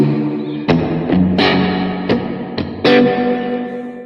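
A VOX guitar amplifier's spring reverb rings after a series of staccato electric guitar chords played with the gain turned up. Five or six sharp, distorted stabs each trail off into a splashy reverb tail, loud and close.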